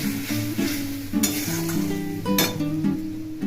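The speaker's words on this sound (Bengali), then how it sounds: "আমি মশলাটাকে ভেজে নেব" Spice paste for a potato and pointed gourd korma sizzles and spits steadily in a pan. A low steady tone runs underneath, and a couple of sharp scrapes or clatters stand out.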